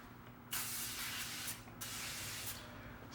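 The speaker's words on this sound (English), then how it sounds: "Spray it with some disinfectant spray." Disinfectant spray hisses onto barber's hair clippers in two bursts, about a second each and separated by a short pause. The sound is close and crisp with no voices.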